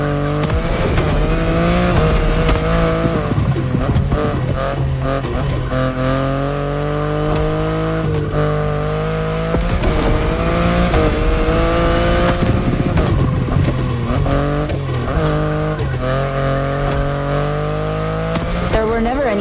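BMW i8 hybrid sports car driven in the racing game The Crew Motorfest, its engine droning and shifting pitch steadily throughout with occasional tire noise, loud and continuous under a voice talking.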